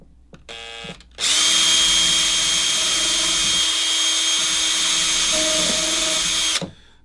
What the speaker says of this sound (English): I have my drill bit set up and I know how far I need to go in.